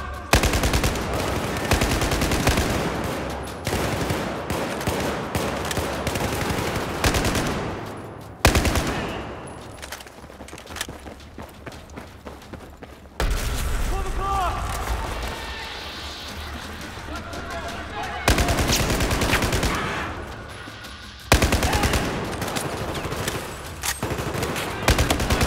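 Rapid bursts of automatic gunfire in Battlefield 4 crackle in long sustained volleys, pausing briefly between bursts, while voices talk over the shooting.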